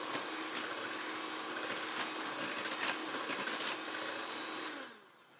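Banana pudding mixture being mixed by a steady electric mixer, a loud continuous whir with small bumps that runs for several seconds and then cuts off abruptly near the end.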